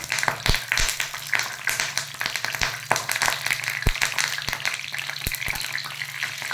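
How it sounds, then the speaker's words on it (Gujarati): Curry leaves dropped into hot oil for a tadka over dal khichdi give a steady close crackling sizzle with sharp scattered pops throughout, loud and continuous with no voices. "હવે તેલ થઈ ગયું છે એટલે આપણે લીમડો નાખી દેવાનો"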